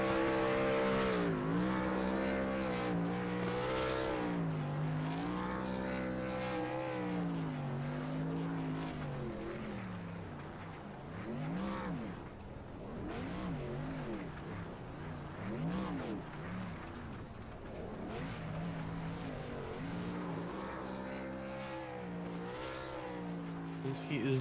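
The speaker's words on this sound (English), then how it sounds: "what we're gonna do is we're gonna do his burnouts and stuff" A pickup truck at a truck series racing event revs hard through burnouts, its engine note sweeping up and down repeatedly, loud and sustained from a moderate distance.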